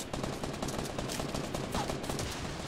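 Heavy shotgun fire in Fortnite Battle Royale, a dense, continuous clatter of rapid gunshots and explosions filling the short stretch at moderate, steady loudness with no talk over it.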